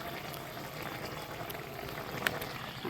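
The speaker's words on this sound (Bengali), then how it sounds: "এই যে সকালে আমার রান্না হচ্ছে আলু মাছের ঝোল" A pot of potato and fish curry boils steadily on the stove, a soft continuous bubbling and simmering hiss that stays even throughout, with a single faint clink near the end and no talking.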